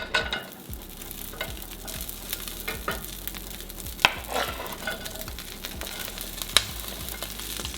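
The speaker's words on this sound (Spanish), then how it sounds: "En un sartén vamos a poner el chicharrón." Pork cracklings sizzle steadily in a pan, a soft continuous frying hiss broken by occasional light clicks and stirring scrapes, fairly quiet with no voices.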